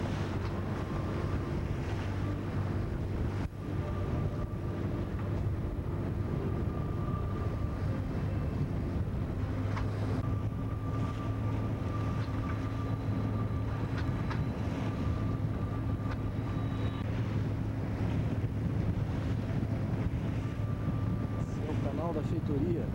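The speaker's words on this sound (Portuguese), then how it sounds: "O vento continua médio para forte" Strong 25 to 30 knot wind buffets a sailboat near Barro Duro, a steady, loud, broadband rush with low rumble that continues without a break throughout.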